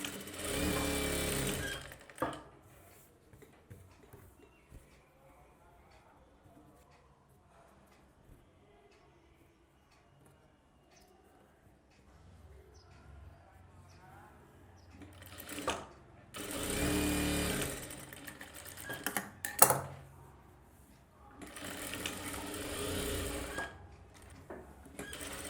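A sewing machine stitches a blouse shoulder seam in short bursts: a loud run at the start, quiet handling in between, then several more close runs near the end.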